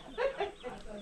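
A chicken clucks a few times close by in a home garden, short soft bursts over faint background noise.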